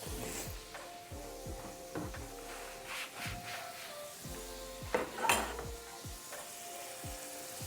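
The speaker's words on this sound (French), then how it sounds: "Ok, donc le poulet est grillé." Chicken grilling in a pan for pasta Alfredo gives a steady close sizzle, with repeated sharp utensil scrapes and clinks against the pan and a brief louder burst of crackling midway; no one talks.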